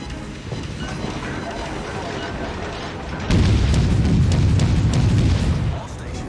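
The American Tier III cruiser St. Louis fires its naval guns in rapid succession in World of Warships, a dense, booming barrage that swells suddenly and rolls on for a few seconds over battle ambience, with a voice heard along with it.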